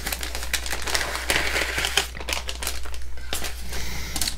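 Resealable plastic bags of scale model kit parts crinkle and rustle close up in irregular bursts of handling, loud and with no talking over them.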